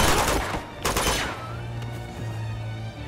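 Rapid gunfire bursts in the video game Uncharted 2: Among Thieves, set in Tibet, a loud close volley of overlapping shots at the start followed by a trailing ring and rumble.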